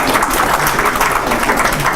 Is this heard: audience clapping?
yes